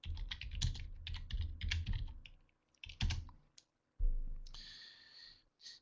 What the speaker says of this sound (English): I'll just type that in here.